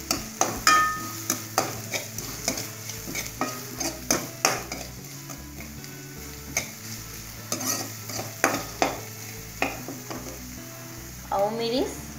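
Onions with ginger and garlic stirred and frying in a pan, a steady sizzle under repeated scraping and clattering stir strokes, close and fairly loud throughout.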